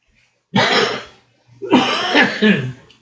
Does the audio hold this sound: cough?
yes